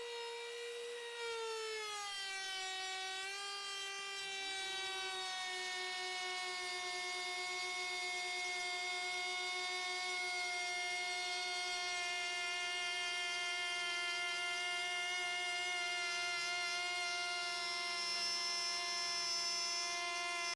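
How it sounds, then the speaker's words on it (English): A Ryobi cordless vacuum spins up and whines steadily, its pitch dropping and settling within the first few seconds. It then holds a clean, sustained motor hum with bright harmonic overtones, fairly quiet and alone, running uninterrupted for about twenty seconds. "Here's a vac that I'm using, the Ryobi. It is the cordless vac."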